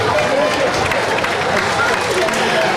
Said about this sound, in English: we're giving Tom Little and Kalani a great round of applause